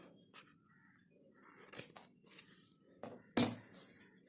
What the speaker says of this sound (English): let's cut this at an angle